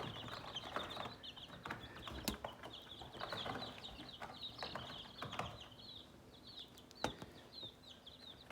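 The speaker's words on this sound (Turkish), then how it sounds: "Bunlar civcivlerimiz 15 tane var." Chicks peep continuously in a busy chorus while hens cluck now and then, with scattered soft knocks and rustles nearby; no talking.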